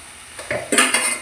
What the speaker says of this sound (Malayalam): ഇവിടെ നല്ലോണം മിക്സ് ചെയ്ത് കൊടുക്കണേ